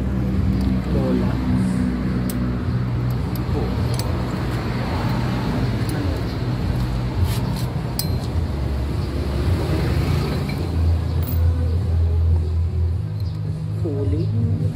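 A Honda Beat FI scooter engine runs steadily during a check, a close, constant droning hum that holds for the whole stretch while people talk over it.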